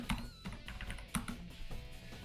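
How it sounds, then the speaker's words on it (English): Rapid clicking of keys on a computer keyboard as someone types during a live game stream, with irregular bursts of close taps and no speech. "I can't even like not screw up typing it."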